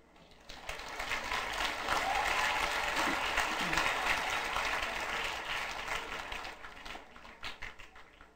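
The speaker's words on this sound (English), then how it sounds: "We can clap" Sustained audience applause at a university dental school white coat ceremony, swelling in after a moment, holding steady for several seconds, then thinning out toward the end.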